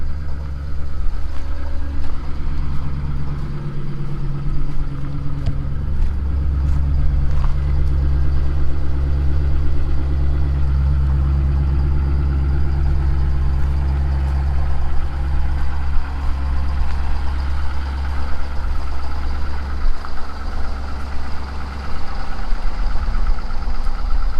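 A vehicle engine idles at raised speed just after a cold start, with a steady low rumble and drone running continuously and close by, with no talking over it.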